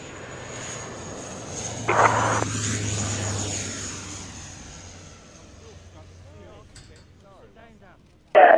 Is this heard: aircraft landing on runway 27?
yes